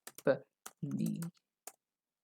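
Typing on a computer keyboard while coding: a few sparse, close, crisp key clicks, interleaved with brief bits of speech.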